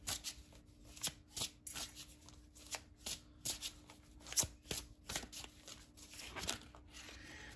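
Tarot cards are shuffled close up in a brisk, irregular run of papery riffles and soft slaps lasting several seconds, with no talk.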